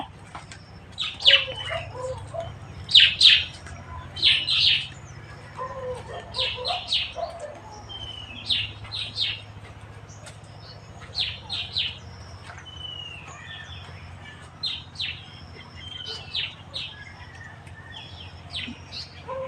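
Sparrows chirp in quick, bright bursts around a clay pot, closest and busiest in the first several seconds, then thinning to scattered tweets over a low background hum.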